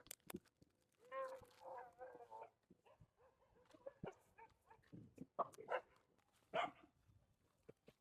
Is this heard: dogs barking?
yes